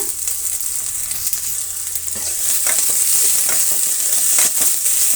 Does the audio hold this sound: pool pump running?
no